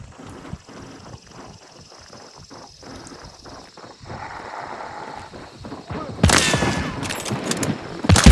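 A shooter video game with muffled movement and clatter, then a loud sudden burst of rapid gunfire near the end.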